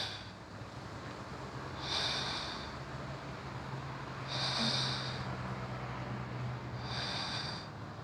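Three slow, deep breaths during a glute-focused yoga routine, each a soft airy exhale or sniff swelling and fading a couple of seconds apart over a quiet low hum, close to the microphone.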